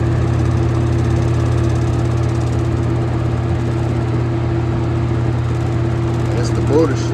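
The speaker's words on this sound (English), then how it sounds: "I guess the motor shaking a lot. As I'm holding on to it, you can see how out of balance this fan is." A 1996 Holmes box fan, model HABF-25, runs with an out-of-balance, shaking motor, giving a steady, loud, droning hum with fixed tonal buzzing throughout.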